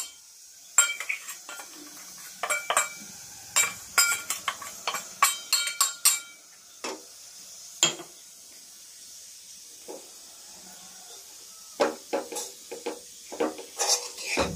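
Mustard-chilli paste and salt are stirred into a cooled curry with a spoon, a run of close, crisp scrapes and clinks against the vessel in uneven bursts, separated by near-silent pauses.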